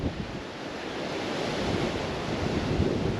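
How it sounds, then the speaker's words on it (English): Steady wind buffets the microphone with a broad rushing roar during a drive in a 2024 Mercedes EQE in London, fairly loud and continuous, no voices present. "It's a bit of a windy day today"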